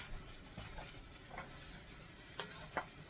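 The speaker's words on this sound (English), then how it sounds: "So I'm going to put my sausages in there now with it. And let it all fry up in the butter." Sausages fry in melted butter in a pan, a soft steady sizzle close by with a few light scrapes and pops, faint and without voices.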